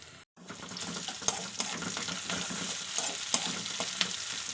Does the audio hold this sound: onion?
yes